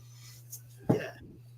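A single short sneeze bursts out close by against a quiet room with a steady low hum, preceded by a faint breath.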